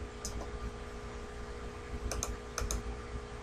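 Several crisp computer clicks come in quick pairs near the end, close and dry over a steady low room hum.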